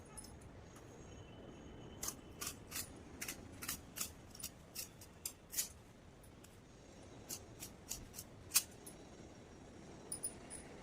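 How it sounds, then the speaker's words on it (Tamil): Scissors snipping fabric during a sewing job, a series of crisp, close cuts in an uneven rhythm, some quick pairs and some spaced apart, against a quiet room with no talking. "கத்திரிக்கோள் வச்சுட்டு இப்படி அமர்த்தி விட்டுருங்க."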